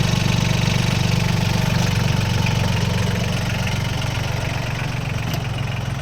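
A small diesel engine of a Solis 26 mini tractor with a front loader chugs steadily at a constant idle, a close, rough, knocking drone with no change in pace and no voices.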